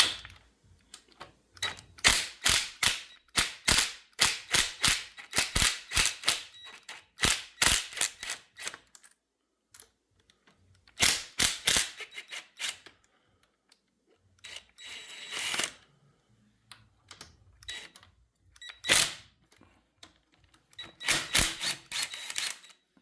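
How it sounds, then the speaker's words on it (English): An impact wrench works loose 8mm bolts around the edge of a timing chain cover, firing in rapid rattling bursts separated by short silent pauses, close and loud, with no speech. "So now we have to remove all the 8mm bolts around the edges. All right, so I'm just going around with the impact"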